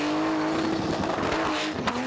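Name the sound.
car doing a burnout at high revs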